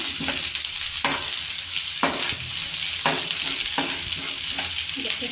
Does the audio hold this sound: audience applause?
no